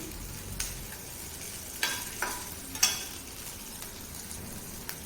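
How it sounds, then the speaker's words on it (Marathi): Garlic and green chillies fry in hot oil for a village-style kharda, a soft steady sizzle broken by a few sharp clicks and spatula taps, with no talk. "लसूण पण चांगला तेलावर परतला गेला पाहिजे चांगला लालसर झाला पाहिजे"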